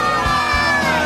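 University of Kentucky fans cheer in a Kentucky Corner advertisement, a brief, loud burst of crowd shouting and whooping that stays dense and sustained.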